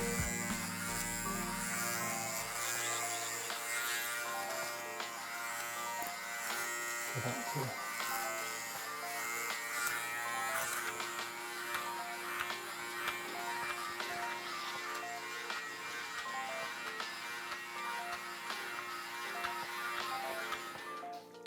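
Electric hair clippers set to a 4.5 guard length buzz steadily and close while cutting hair at home, with a constant electric hum under a person talking.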